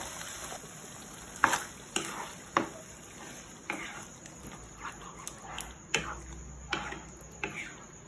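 Sauce for baked macaroni stirred in a pan: a utensil ticks and clicks against the metal in an uneven rhythm of sharp, close taps over a quiet background, with no talking.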